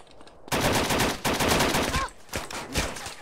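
Rapid bursts of loud gunfire in the MTA DayZ video game crack in quick succession, with a short pause before a few more shots ring out.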